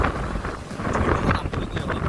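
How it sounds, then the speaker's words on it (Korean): Strong southerly wind blows hard across the microphone at a riverside spot where cast nets are thrown for mullet, a steady loud rumble and roar with gusty swells throughout and no voices. "남쪽에서 바람은 엄청 많이 불고 있습니다"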